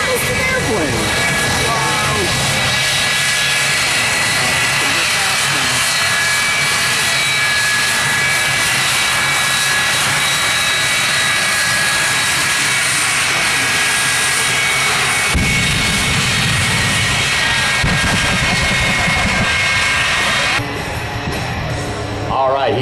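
Loud, continuous jet-engine roar with afterburner from a 1957 Chevy truck, a steady broadband blast filling the whole stretch and shifting in tone near the end as the run changes.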